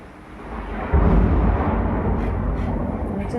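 Thunder during an evening rainstorm booms in suddenly as a loud, deep, sustained rumble that rolls on over steady rain.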